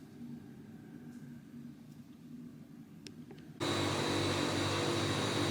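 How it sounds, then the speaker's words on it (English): A home freeze dryer is switched on partway through. A faint hum suddenly jumps to a loud, steady mechanical roar with a bright whine, which runs evenly and close by with no talk. "I've just turned on the freeze dryer"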